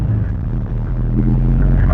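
A van engine drives along a lane, its steady low rumble running continuously and fairly loud with slight shifts in load, as the gearbox refuses second and jumps from first to third.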